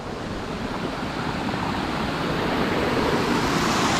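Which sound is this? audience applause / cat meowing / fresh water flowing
fresh water flowing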